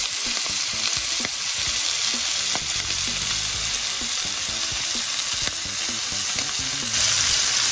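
Prawns sizzle steadily in a hot frying pan with garlic butter, a continuous loud hiss of frying with occasional stirring clicks and scrapes throughout, no talking.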